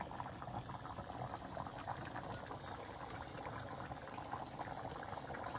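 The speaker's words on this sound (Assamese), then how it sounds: "গাবৰ উঠি উঠি আছে" Chicken curry bubbling steadily in a pot on a home stove, a continuous soft gurgle and simmer with no voices.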